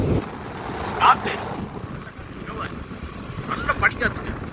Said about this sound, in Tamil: அப்படி காத்தடிக்க பார்த்தீங்களா, அந்த காற்று